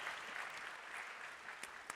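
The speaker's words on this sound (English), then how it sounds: "Give him a nice round of applause." Steady applause from an audience at a live Quarter Horse sale auction, a dense wash of clapping that holds evenly for two seconds with a couple of sharper claps near the end.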